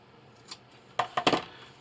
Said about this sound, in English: with my scissors here, I'm just going to go ahead and trim the corners to reduce the bulk.